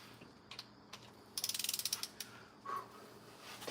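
A torque wrench ratchets rapidly on cylinder head bolts during a head gasket replacement, tightening to 80 foot-pounds with a quick run of close, crisp clicks, then a few slower clicks and a soft creak, in a quiet space.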